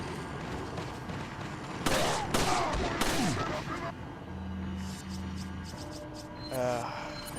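Grenades explode in the video game Resident Evil 4 as a cluster of sharp, loud blasts with crackling debris, followed by quieter game sounds and a low hum, with a voice talking faintly underneath.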